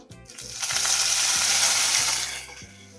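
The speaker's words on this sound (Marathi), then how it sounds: "आता यामध्ये मी मोहरी टाकते. मोहरी चांगली तडतडली की जिरं टाकूया." Mustard seeds, cumin and curry leaves splutter and crackle in hot oil for a vada pav tempering, a dense loud sizzle swelling from a soft start and fading near the end, with no talking.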